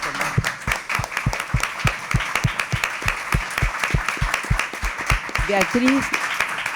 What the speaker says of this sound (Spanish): Les pido un aplauso para ellos.